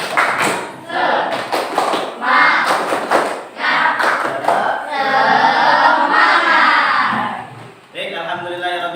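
An elementary school class performs a rhythmic 'tepuk semangat' clapping cheer, with sharp patterned claps and thumps alternating with the children chanting loudly together, close by in a classroom.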